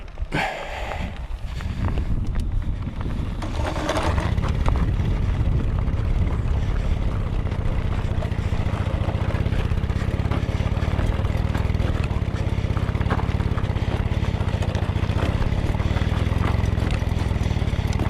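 The engine of an old Mobyx moped, idle for over forty years, catches after a couple of coughs and runs as a loud, rough, steady drone that continues close up for the whole stretch.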